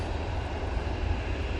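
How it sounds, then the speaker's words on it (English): A KLM Embraer 175 airliner arriving from Amsterdam Schiphol at Manchester Airport, a steady, broad low engine roar held at even loudness throughout the short stretch. "KLM Embraer now coming in from Amsterdam Schiphol, using the looks like the 175 for this one."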